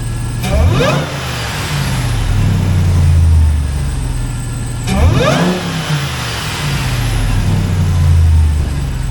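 A Ram TRX pickup fitted with an S&B intake revs hard twice, each throttle blip rising sharply and then settling back to a deep idle rumble, loud and close.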